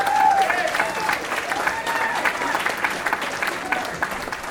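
An audience at a stand-up comedy show claps in a lively burst, with overlapping hand claps and a few voices and cheers mixed in, gradually fading over several seconds.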